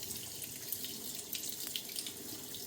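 Tap water runs steadily to rinse a Timeless .68 safety razor, a close, continuous hiss and splash at moderate volume with no voices.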